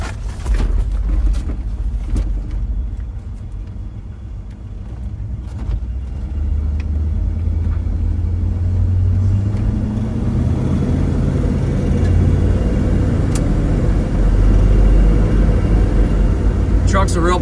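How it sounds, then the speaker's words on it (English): A 1969 Chevrolet C10 pickup with a 350 V8 and automatic transmission drones steadily while driving, a low rumble with road noise that swells slightly toward the end, with a voice talking over it. "Take a ride in the C10."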